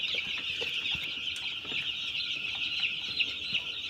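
Broiler chicks crowd together in a heated winter brooding house, a dense chorus of high peeping and soft clucks running steadily throughout, fairly close.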